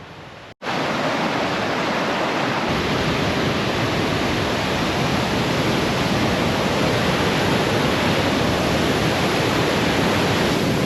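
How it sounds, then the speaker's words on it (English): Rushing water from a big waterfall at Big Pine Lakes in the Sierra, a loud, steady broadband roar that begins after a brief quiet moment and continues unbroken, close and dominant with no voices. "That water is flowing. Big flows, big falls."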